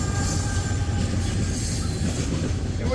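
Loaded coal freight train rolling past on the rail line, a steady low rumble of wagons with faint wheel noise, continuous and fairly close, with no voices.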